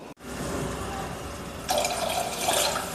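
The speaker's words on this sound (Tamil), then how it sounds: "சும்மா கொஞ்சமாக தண்ணி ஊற்றி பருப்போடு சேர்த்தாச்சு" Water pours steadily into a pot of dal for green chilli sambar, a continuous close splashing that grows brighter and louder partway through; no voices.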